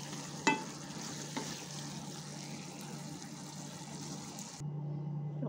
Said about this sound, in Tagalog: So tutunawin ko lang yung butter, tapos kukunin ko yung mantika niya